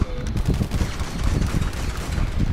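Shotgun fire in the video game Grand Theft Auto V Online, loud, close blasts blurring into a dense burst of gunfire that lasts a couple of seconds without any voices.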